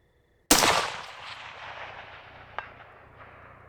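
A single loud rifle shot at night on a long-range shooting range, out to 500 yards: a sharp crack with a long rolling echo that fades over several seconds, then a faint distant impact.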